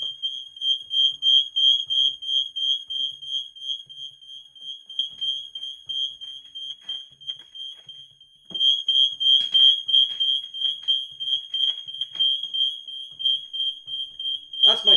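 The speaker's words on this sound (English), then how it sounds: "That's my fire alarm." A home fire alarm going off with a shrill, piercing electronic beep pulsing rapidly and continuously, loud and close, pausing briefly midway before resuming, with faint clicks and noises underneath.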